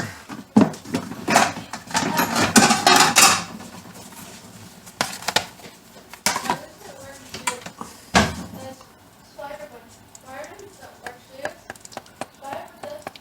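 Lasagna is served onto plates with a spatula: clattering dishes and scraping knocks come in bursts, mostly in the first few seconds, with a person talking through it.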